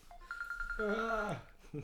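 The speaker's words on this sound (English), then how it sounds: "Oh, we got a phone call." A phone rings faintly with an incoming call during an indoor podcast interview, a quick pulsing electronic tone that blends into a voice talking over it.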